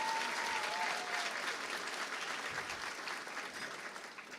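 Audience applause for the Makaisa Filipino Club dance group at a university celebration, a dense, steady wash of clapping from a sizable crowd that fades gently toward the end.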